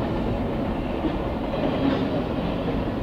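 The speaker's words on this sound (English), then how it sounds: "those cars are really bouncing off of that crossing right there" CSX freight train cars rumble steadily past at close range over a railroad crossing, bouncing on it, a continuous heavy rolling noise with no pauses.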